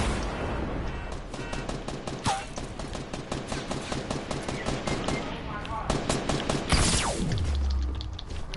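Video game shooter gunfire crackles in dense automatic bursts, close and loud, with a sharp ricochet-like whine and a falling whoosh near the end; no talk is present.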